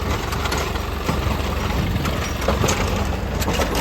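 A tractor engine idles in a field with a constant low rumble and chugging, close by and unbroken, with no one talking.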